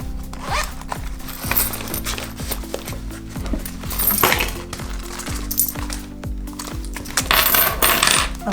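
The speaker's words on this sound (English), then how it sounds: "Let's start with emptying our change out." Loose change poured and emptied out onto a surface, with a dense run of metallic clinks and jingles as many coins drop and settle in quick bursts, close and fairly loud.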